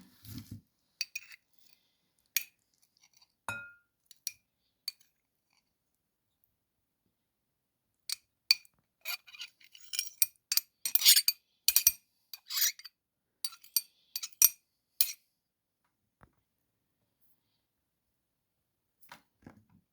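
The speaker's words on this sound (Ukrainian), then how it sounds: "і тепер я висипаю сюди і родзинки" Raisins tipped into a salad bowl in a home kitchen, a patter of light clicks and ticks in scattered clusters that thickens into a quick rattling run midway, then fades to a few stray taps.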